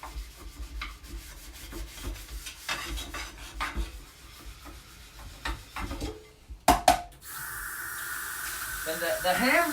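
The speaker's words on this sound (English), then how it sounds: "it still needs to be washed to get the extra metal fragments off there." A metal cooking pan used for hamburger is scrubbed and rubbed with short scraping strokes, then a steady rush of running water takes over near the end, close and fairly loud.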